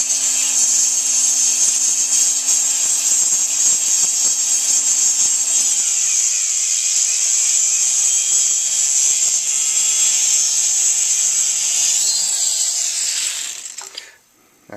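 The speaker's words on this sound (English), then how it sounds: "I'm going to use the Fordom tool now just to kind of get the edges where I want them." A Foredom rotary tool grinds and shapes the edges of a hammer, a loud, steady high whine held for about twelve seconds, shifting pitch as the load changes, then winding down and stopping near the end.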